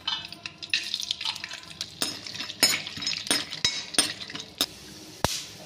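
Peanuts cooking in refined oil in a kadhai, with light clinks and scrapes of a utensil against the metal pan over a soft sizzle, close and without talking.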